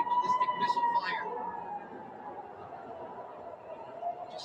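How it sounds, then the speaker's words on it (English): Distant air raid sirens wail across a city, steady and far off, with a few faint voices and chirps near the start. "These sirens sounding across the city."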